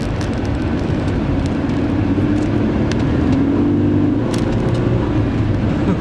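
A Ford Explorer accelerating on a drive around the block after a gas pedal adjustment, giving a steady, loud engine and road drone with a faint rising tone and no talk.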